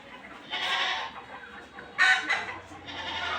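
Free-range desi chickens and a rooster on a rural farm that also keeps cows and ducks. Two loud, nearby crowing calls are heard, one early and one midway, mixed with clucking in the farmyard and no talking.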